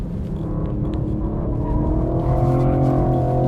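A BMW M4 Competition with 510 hp and rear-wheel drive accelerates out of a corner on a race track, its engine note rising steadily in pitch and loudness from inside the car, with no talk.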